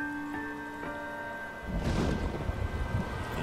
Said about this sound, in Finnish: Oli synkkä ja myrsky.